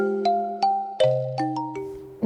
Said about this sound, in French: Mon téléphone.